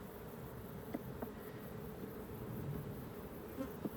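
Honeybees buzz steadily inside an open beehive during an inspection, a dense continuous hum with a few brief louder bees passing close by.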